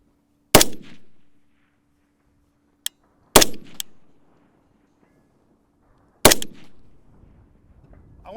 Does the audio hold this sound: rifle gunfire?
yes